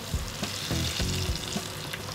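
Sebago potatoes pan frying in hot oil crackle and sizzle steadily, with a few soft scraping knocks as the pieces are carefully turned over; close and fairly loud with no talking.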